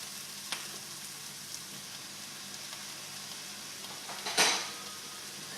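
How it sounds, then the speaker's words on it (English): Ground turkey fries in a pan, a soft steady sizzle with a few light clinks of utensil on cookware and a brief louder scrape near the end. "I'm just going to add all of the turkey to the mix, to the pan"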